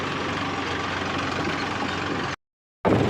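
A tractor engine idles steadily on a farm during manure-hauling trips, a close, continuous low rumble that cuts out briefly near the end before resuming.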